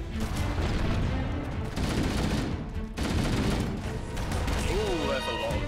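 Grenade blasts and heavy gunfire roar through a firefight in Halo: Combat Evolved, dense and continuous with crashing bursts and a brief dip midway, loud and close throughout.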